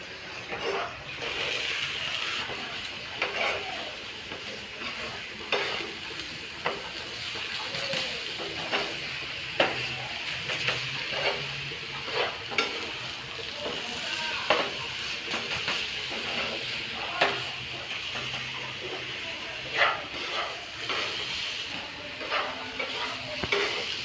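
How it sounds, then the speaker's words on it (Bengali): Payesh, a sweet rice pudding, is stirred in a pan over heat, with a soft steady sizzle and bubbling under repeated scraping strokes of a utensil against the pan, close and moderately quiet. "এবার আমি নাড়াতে দিচ্ছি এটাকে ভালো করে সুন্দর করে"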